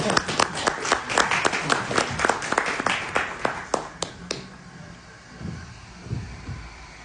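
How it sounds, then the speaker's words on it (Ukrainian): Audience applause at an investment talk, a modest crowd clapping in sharp separate claps that thin out and stop after about four seconds, leaving faint room noise. "Оплески. Павло Бойко!"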